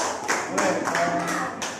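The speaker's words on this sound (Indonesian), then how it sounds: "tepuk tangan dari Surya dari kelompok Sambo" A classroom of students claps in brief applause, a dense patter of many hands at moderate volume with a few louder bursts, nearby and continuous for a couple of seconds.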